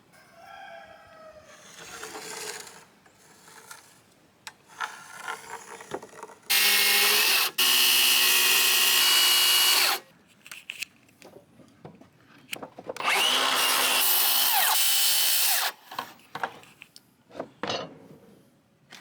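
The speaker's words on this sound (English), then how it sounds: "Might need to clean it up just quickly with the jigsaw" A jigsaw cutting wood while building a farm stand, two loud sustained bursts of close buzzing cut separated by quieter handling noises, with a rooster crowing in the background at the start.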